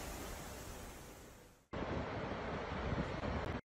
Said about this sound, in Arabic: أصبح الشلال أجمل مع الرياح القوية.